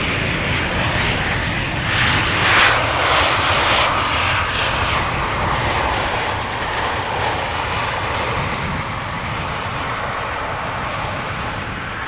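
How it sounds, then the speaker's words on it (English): A Transavia airliner arriving from Naples touches down at Amsterdam Schiphol with a sustained, fairly loud engine roar that swells early on, then eases into a steady rush. "First airplane now touching down is a Transavia flight 6410, which is arriving from Naples"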